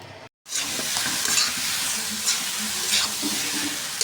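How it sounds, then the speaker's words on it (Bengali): Kokola instant noodles sizzle and bubble in a pan on the stove, a steady frying hiss with occasional stirring scrapes, close and even after a brief cut at the start. "নুডলস রান্না হইতেছে"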